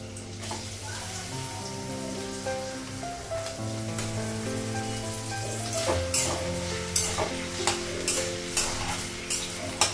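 Onions with green chillies and garlic frying in a pan in a home kitchen for a Bengali meal, a steady close sizzle throughout with spoon-stirring scrapes and clinks growing more frequent toward the end.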